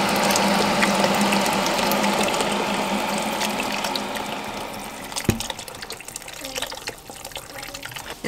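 Tap water runs steadily into a cooking pot holding vegetables and herbs for a soup in a home kitchen, a continuous broadband gush that fades slightly over several seconds, with a clunk partway through.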